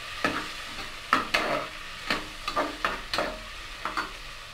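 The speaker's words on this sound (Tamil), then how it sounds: "இப்போ அதில் வந்து பட்டாணி, உருளைக்கிழங்கெல்லாம் போட்டு ஒரு வதக்கி வதக்கி விட்டுடலாம்" Peas, potatoes, carrots and beans are sautéed in a pan, with a spatula scraping and stirring in repeated close strokes over a low frying sizzle.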